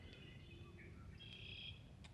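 Small birds chirp and sing at a rainy truck campsite beside a campfire, a few bright calls rising over a steady low background hiss.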